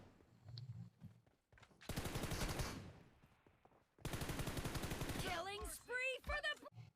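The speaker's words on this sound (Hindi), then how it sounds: "मैं उस पर एक हिप फायर लेता हूँ" Hip-fire gunshots in PUBG Mobile come in two dense, loud bursts of rapid automatic fire, each lasting about a second or more. Quieter game ambience and a short whistling sweep fill the gaps between them.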